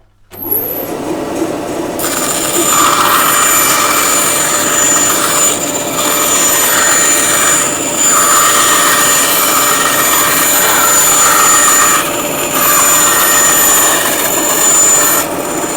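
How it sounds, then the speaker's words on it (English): A bandsaw cuts through wood strips being prepared for a classical or flamenco guitar rosette herringbone, a loud steady whine and roar holding on throughout with brief dips as the cut pauses. "So I'm going to go back to the bandsaw"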